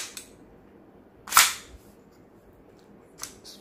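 A GHK AKMS gas blowback airsoft rifle firing 6mm BBs lets off one short, loud, hissing burst, followed a couple of seconds later by a faint click.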